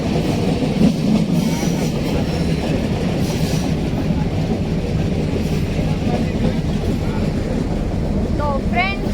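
A passenger train runs along rails in forested country, a steady loud rumble with rhythmic clatter of wheels, heard from inside the carriage, with no talk over it.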